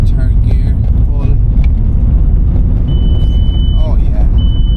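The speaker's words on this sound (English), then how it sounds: "There's a third gear pull." Turbocharged car accelerating hard in third gear after a boost issue was fixed, a dense steady engine roar heard from inside the cabin, with faint chirps and a thin electronic beep joining near the end.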